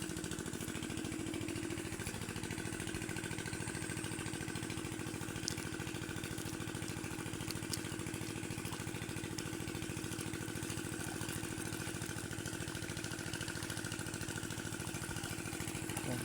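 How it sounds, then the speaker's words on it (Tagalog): Farm irrigation water pump engine running steadily outdoors, a continuous mid-pitched motor drone with a buzzing, slightly rattly texture that holds at constant level throughout, heard alone without talk. "At papatay na natin muna yung ating makina"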